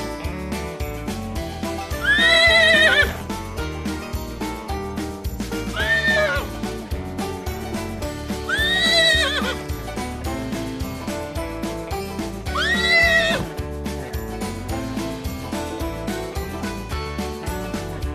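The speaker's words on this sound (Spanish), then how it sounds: "Su sonido característico es el relincho." A horse neighs in four separate whinnies spaced a few seconds apart, each bright and loud, over a steady musical backdrop.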